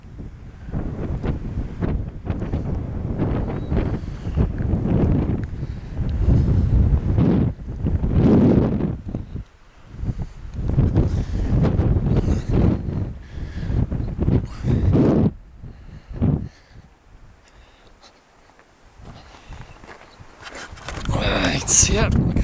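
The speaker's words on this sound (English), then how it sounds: "It's breezy, it's sunny, warm, but it's very breezy up here." Strong wind gusting across an exposed hilltop near Betws-y-Coed on a sunny day, buffeting the microphone in loud, continuous roaring bursts with a brief lull toward the end; a person talks over it.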